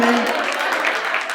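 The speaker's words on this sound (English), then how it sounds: "Clap for Getty, tafadhali" Applause from an audience at a meetup with conversations and stories, a brief dense burst of clapping heard up close.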